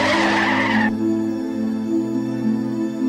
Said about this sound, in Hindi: थोड़ी ही दूर जाकर रमेश अचानक से गाड़ी के ब्रेक लगाता है